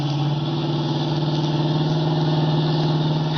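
Car engine in an old-time radio drama car chase, a loud, steady mid-pitched drone with a deep hum running throughout, close and unbroken, with no voices.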